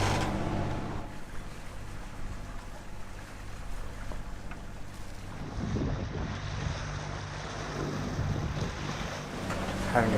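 Sailboat motoring at sea under diesel power at about 5.5 knots, giving a steady low engine drone mixed with wind noise and water rush against the hull, continuous and close throughout.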